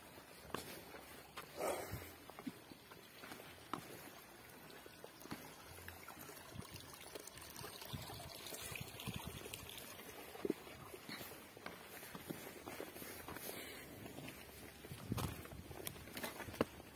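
Footsteps wading across a shallow river outdoors, with irregular soft splashes and trickling water through a steady outdoor background, fairly faint and with no talk.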